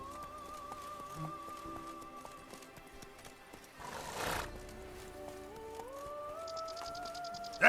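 Roach, Geralt's horse in The Witcher 3, whinnies and snorts amid game music and ambience, with a brief burst of rustling noise in the middle and tonal music continuing around it.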